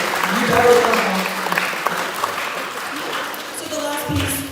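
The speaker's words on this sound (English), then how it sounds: "students, please give your parents a round of applause" Sustained applause from a concert audience at a middle school summer band camp performance, a steady wash of clapping throughout, with some voices and crowd noise mixed in.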